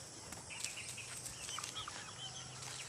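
Chickens clucking softly across a farmyard where they forage on grass, with scattered short calls and faint rustling over a steady low background hum, no talking.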